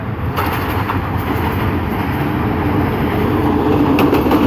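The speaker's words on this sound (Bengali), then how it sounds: "ঢাকা অভিমুখী আন্তনগর চট্টলা এক্সপ্রেস ট্রেনটি ভৈরব বাজার জংশনের 1 নম্বর প্ল্যাটফর্মে প্রবেশ করেছে" Chattala Express, a Dhaka-bound intercity train hauled by a 2900-series locomotive, rolls into platform 1 at Bhairab Bazar Junction, a steady loud rumble of wheels with a few faint clicks over the rails and no voices.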